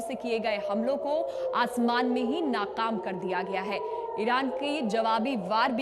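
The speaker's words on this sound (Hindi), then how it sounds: "इसमें आपको सायरन की आवाज भी सुनाई दे रही है।" An air-raid siren wails during a missile attack on Haifa, a steady, drawn-out tone running beneath continuous Hindi news narration that stays much louder in front.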